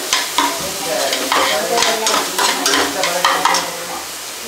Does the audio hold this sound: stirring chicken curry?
yes